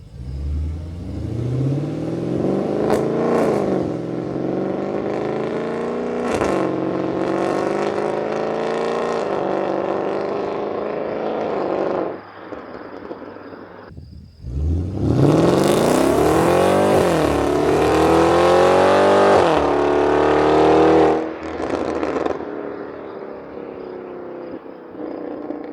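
Porsche Cayenne GTS with secondary catalytic converters deleted and exhaust valves open, revving loudly in repeated rising pulls, a pause near the middle, then another long climbing rev and drop back to idle, close and with no talking.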